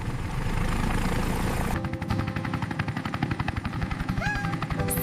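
A cartoon helicopter built of cardboard flies with a rapid chopping rotor pulse over a busy animated soundtrack, loud and close, with a rising whistle-like effect near the end.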